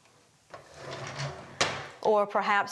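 A bathroom drawer is pulled open nearby with a sharp wooden knock and short sliding rattle, following rustling and faint movement, loud and close with no talk over it.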